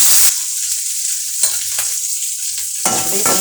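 Garlic, shallots, mustard seeds and urad dal fry in sesame oil in a pan, crackling and sizzling loudly up close. Stirring scrapes break the sizzle into uneven bursts.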